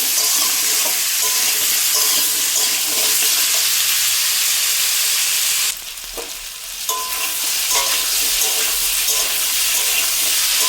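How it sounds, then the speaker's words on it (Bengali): Loud, steady sizzling of bottle gourd frying in a hot pan, broken briefly by a scrape and clatter of stirring before the hiss resumes. "এইভাবে কিছুক্ষণ ভাজতে হবে।"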